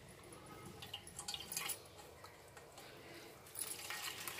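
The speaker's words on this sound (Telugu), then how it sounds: "ఇలా వాటర్ ఏం లేకుండా మొత్తం వాటర్ పోయేట్టుగా పిండేసుకోవాలి" Water drips and trickles from soaked bread slices being squeezed by hand, a quiet run of irregular drips and small splashes with a brief louder burst near the end.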